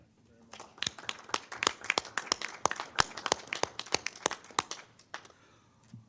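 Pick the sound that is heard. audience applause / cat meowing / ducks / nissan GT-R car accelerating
audience applause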